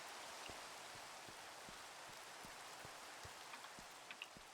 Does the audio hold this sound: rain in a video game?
yes